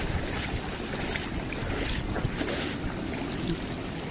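Broad rushing water noise with wind buffeting the microphone, steady and loud throughout, floodwater mixed with high-tide seawater churning through a broken dike at a fishpond.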